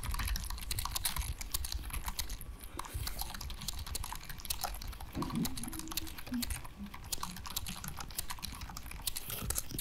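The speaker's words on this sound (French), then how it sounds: "vous aurez le bruit du clavier et tout" Close, continuous clatter of a computer keyboard as someone types, with quick irregular keystrokes and no talking.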